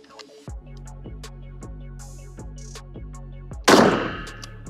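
Smith & Wesson 629 .44 Magnum revolver firing: one loud, sharp blast near the end, heard after a steady background hum with faint ticking.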